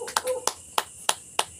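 Applause from a church congregation, a handful of sharp separate claps in a loose rhythm, close and crisp over a quiet room.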